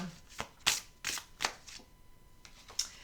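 Oracle cards from a Lise Bartoli deck are shuffled and handled close by, giving several sharp riffling bursts spaced irregularly apart, with quiet pauses in between.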